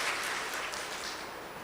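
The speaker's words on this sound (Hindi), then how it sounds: "एक बार ताली बजा देंगे सभी।" An audience claps together in a room, a brief steady patter of applause heard at moderate distance with no voices over it.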